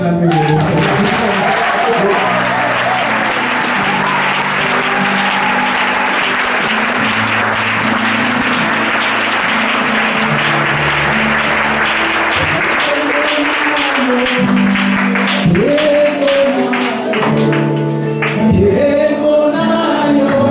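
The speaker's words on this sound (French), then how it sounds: "Est-ce que tu peux acclamer le Seigneur?" A church seminar audience applauding and cheering the Lord, sustained loud clapping and crowd noise over background music that lasts the whole stretch, with voices mixed in.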